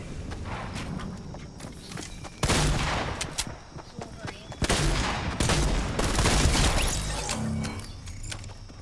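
Gunfire in the Fortnite Chapter 3 video game, with loud bursts of rapid shots and bangs recurring across the clip alongside game footsteps and clatter.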